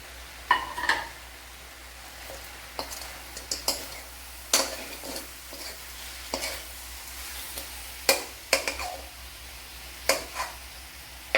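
Boiled potatoes are stirred into okra masala frying in a pan, giving soft scraping clicks and stirring knocks at irregular intervals over a low, steady background sizzle.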